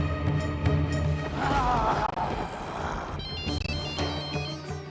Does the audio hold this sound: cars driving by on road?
no